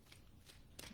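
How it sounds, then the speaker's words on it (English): Tarot cards are shuffled by hand in short, soft riffling bursts, quiet and close with brief papery flutters and no talking. "every time I shuffle for next best action"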